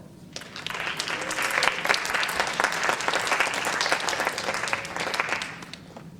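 An audience at a high school science presentation applauds to welcome a student speaker, steady clapping from a roomful of people that swells, holds for several seconds, then tapers off.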